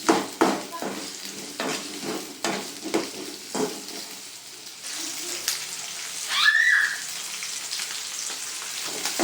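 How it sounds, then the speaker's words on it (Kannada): Onions frying over a high flame, loud crackling sizzle with repeated rhythmic scrapes of a spatula stirring them in the pan, then a steadier hiss. "ಹೈ ಫ್ಲೇಮ್ ಇಟ್ಕೊಂಡು ನೀಟಾಗಿ ಫ್ರೈ ಮಾಡ್ಕೊಳ್ಳಿ"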